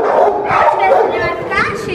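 A small female dog, the mother of a puppy, whines and yips in high, wavering bursts close by, with people talking over the sounds.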